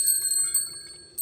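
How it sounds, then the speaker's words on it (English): A metal wind chime rings with several bright, sustained tones that shimmer and overlap, struck again near the end, close and fairly clear with no talking. "wind chime. I love this,"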